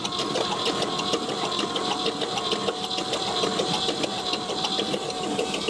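A '61 Chevy ranch truck engine, long abandoned, runs steadily at close range with a rapid mechanical clatter of ticking valves over a continuous hum, and no voices over it.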